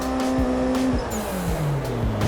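A car engine in Assetto Corsa drifts over a crest on the Ebisu Minami jump, loud and close with rising and falling revs, gear shifts and tire squeal.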